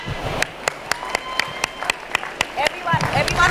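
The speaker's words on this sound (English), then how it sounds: "Everyone clap." A conference crowd at an AI academic event in Hyderabad breaks into applause, opening with scattered sharp claps that quickly swell into dense, steady clapping from many hands nearby.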